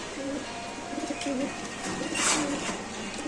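Racing pigeons in cages at a bird market give soft, low, repeated coos against a steady background hiss, with one brief brighter burst of noise partway through.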